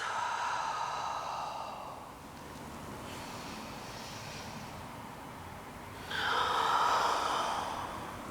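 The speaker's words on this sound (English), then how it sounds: "Belly breaths." Slow, deep belly breaths during a hip-opening yoga session, a long airy exhale fading out, a pause, then a fuller inhale swelling up close to the microphone, with no talking.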